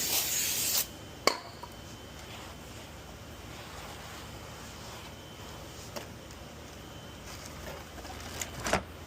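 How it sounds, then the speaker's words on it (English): A loud hissing spray of brake cleaner onto a Ford F-150 brake rotor bursts at the start for under a second, followed by quieter background noise and a few short clicks and shorter spray bursts near the end. "spray it down with some brake cleaner and just give it a quick wipe"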